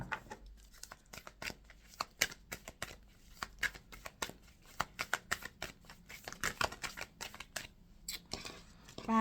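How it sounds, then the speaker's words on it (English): Tarot cards in a long hand shuffle for an Aries reading, a rapid, continuous run of soft papery slaps and flicks, close and fairly quiet, with no voice over it. "that's a long shuffle"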